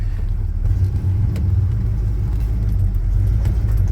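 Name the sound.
1966 Chevy C10 pickup truck engine running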